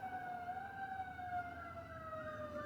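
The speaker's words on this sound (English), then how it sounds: "It's a lot of sirens outside." Faint emergency vehicle sirens outside, a steady wailing tone gliding slowly downward, distant and continuous over a low background hum.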